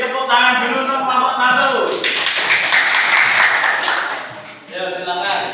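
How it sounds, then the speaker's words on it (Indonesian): A classroom group claps for a student team in an Indonesian teacher-training practice lesson, a steady burst of applause lasting a few seconds between stretches of a speaking voice. "Beri tepuk tangan dulu untuk kelompok"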